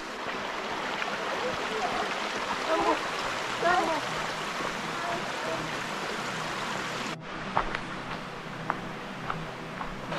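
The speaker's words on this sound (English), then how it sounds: "Look at the stream, and the water is so clean" A clear, clean stream flows over leaves during a bush walk near Hobart's Silver Falls, a steady broadband wash of running water close by that cuts off abruptly near the end and leaves a quieter trickle with faint drips.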